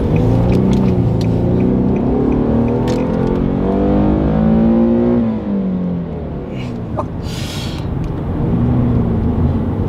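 An Infiniti G37 engine revs loudly and close, its pitch climbing over several seconds, then dropping back to a steady idle hum.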